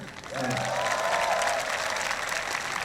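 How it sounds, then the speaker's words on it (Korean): Audience applause at a 2005 CCC summer student retreat evening gathering, welcoming first-year university students; dense, steady clapping from a large crowd swells in after a moment and holds loud throughout. "박수 치세요"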